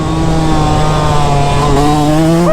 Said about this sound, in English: it's fun romping around on a super lightweight YZ125 like this